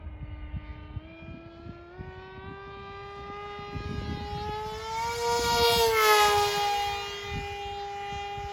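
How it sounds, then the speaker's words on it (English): An FT Flerken radio-controlled foam plane flies steadily with a loud, continuous motor whine that rises in pitch as it speeds up and grows louder as it passes close, with no voices. "Guys, this plane is so smooth."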